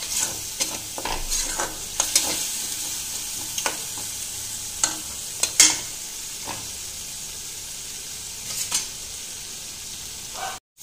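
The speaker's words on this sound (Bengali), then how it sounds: "আরো 1 মিনিট এখন আমি কষাবো" A spice paste loosened with a little water sizzles while being sautéed in a pan, a steady hiss broken by sharp clinks and scrapes of a spoon at irregular moments, close by and free of speech.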